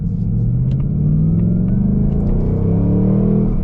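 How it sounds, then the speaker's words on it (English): A 2024 Ford Mustang GT Premium's naturally aspirated V8 with a Getrag manual gearbox rumbles loud and close, its deep engine note climbing steadily as the car accelerates, with no voices. "I love the that sound out of a naturally aspirated V8"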